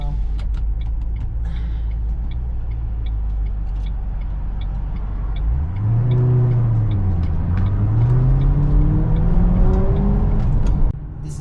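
A 2007 Shelby GT500 SVT Mustang V8 idles with a deep rumble, then revs up and down in a couple of pulls, loud and close with a rising and falling engine note.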